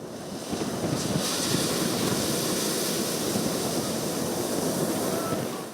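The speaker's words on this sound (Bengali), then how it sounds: "ঘূর্ণিঝড় রিমালের প্রভাবে উত্তাল সাগর বিশাল আকৃতির ঢেউ আছড়ে পড়ছে পতেঙ্গার সাগর তীরে" Rough sea surf pounding the shore at Patenga, Chittagong, during Cyclone Remal, a continuous loud roar of breaking waves mixed with gusting wind buffeting the microphone, with no speech.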